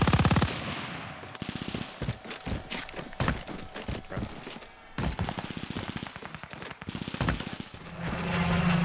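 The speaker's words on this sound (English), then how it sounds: "And I'm going to take some practice shots." Gunfire from practice shots in a multiplayer video game, rapid bursts of automatic fire and single cracks in quick irregular succession, loud and close, with no talk.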